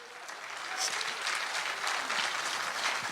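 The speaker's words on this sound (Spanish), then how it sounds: "Porque denle esa ofrenda de palmas a nuestro Dios, aleluya." Steady, dense applause from a church congregation during a sermon, many hands clapping continuously at an even loudness throughout.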